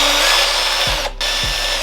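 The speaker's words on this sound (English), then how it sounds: "I'm gonna have to drill a hole right here so I could run the USB" A power drill bores a hole in a custom wall mount for a USB cable, whirring loud and close in a steady drone with two brief pauses as the trigger eases off.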